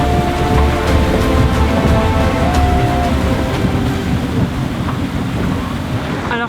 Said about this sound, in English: Now we have a squall.